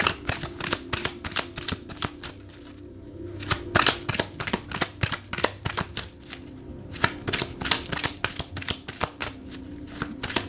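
Tarot cards being shuffled and drawn, a steady run of crisp riffling flicks and slaps close by, pausing briefly before resuming, with no voices.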